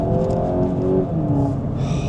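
VW Golf GTI Edition 50 (MK8.5) on the move, steady engine drone and tyre roar close up inside the cabin, rising slightly in pitch with a faint whir near the end.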